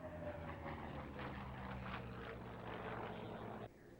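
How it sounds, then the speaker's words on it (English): Racing airplane engine at a 1985 airshow, a steady loud drone with harmonic tones sustained for several seconds before dropping slightly in level near the end, no voices over it. "Alan Preston in Old Deadeye. And listen to this baby sing."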